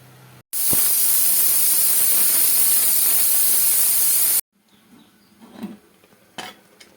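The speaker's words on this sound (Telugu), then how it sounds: "కుక్కర్కు మూత పెట్టేసి ఫోర్ వీజిల్స్ వచ్చే వరకు ఉడికించుకోండి" A pressure cooker of ven pongali releases one loud, continuous steam hiss for about four seconds, then falls back to quieter kitchen clatter and faint bumps.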